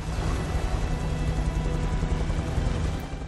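A helicopter in the video game Beyond Two Souls gives a constant loud, dense rotor and engine roar that fills the whole stretch without letup, with no voices over it.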